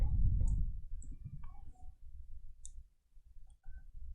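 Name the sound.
typing a formula on a computer keyboard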